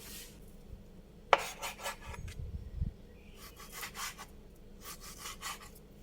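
A knife saws through a piece of ribeye beef on a cutting board in short bursts of rasping strokes, with a few soft knocks of the blade against the board in between.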